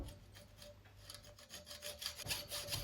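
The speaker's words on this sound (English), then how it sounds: "The stainless steel bolts are quite hard going with a hacksaw, but you get there in the end." A hacksaw works through an M12 stainless steel bolt held in a vise, making quiet, rhythmic rasping back-and-forth strokes with no voices.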